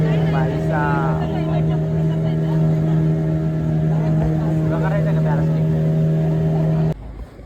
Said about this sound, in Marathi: आमची बोट हालतं भाई साहब